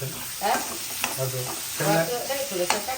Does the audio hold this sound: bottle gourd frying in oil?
yes